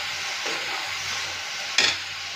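Tomatoes and potatoes with garam masala cooking in a pan: a steady close sizzle with soft stirring, then a brief louder hiss burst near the end.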